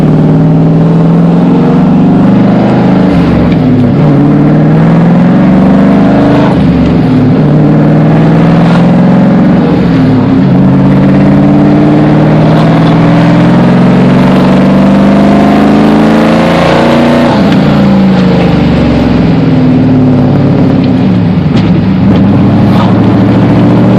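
Car engine driving on a new tune, with a loud, steady drone and repeated rises in pitch as it accelerates through the gears, alone and continuous throughout.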